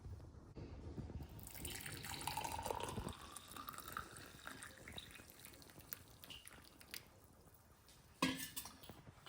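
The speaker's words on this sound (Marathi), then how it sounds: "आता हे सगळं आपण या एका आपल्या ग्लासमध्ये ओतणार आहोत" Hot ginger-lemon sharbat pours steadily into a glass, a continuous close liquid splash and trickle that swells and fades, ending with a brief clink near the end.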